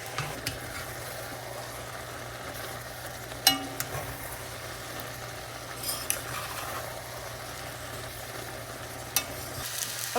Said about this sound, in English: And we're going to stir this up. And we're going to fry it for about 10 minutes.